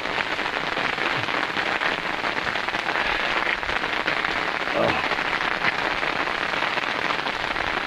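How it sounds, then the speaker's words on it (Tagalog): Heavy rain falls steadily during a downpour, a dense, even hiss on surfaces that holds at the same loudness throughout without letting up. "it's raining"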